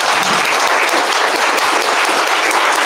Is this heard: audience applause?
yes